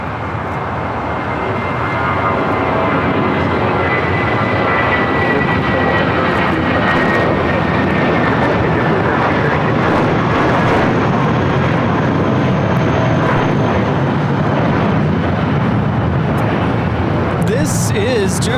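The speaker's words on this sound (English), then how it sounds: "This is JetBlue Airways 2735 taking off to Salt Lake City, Utah on the A320" A JetBlue Airbus A320 jet takes off from a runway at LAX, its engines building into a loud, sustained roar that holds steady throughout with faint voices underneath.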